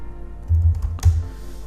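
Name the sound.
typing on a computer keyboard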